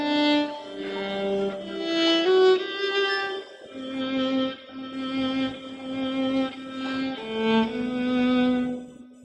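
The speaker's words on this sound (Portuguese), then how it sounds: "Everaldo vai tocar uma frase qualquer, Everaldo, para a gente poder sentir o som da viola" A viola plays a short solo melodic phrase in a symphonic teaching concert, with clear sustained bowed notes rising and falling, some held long, played alone and close.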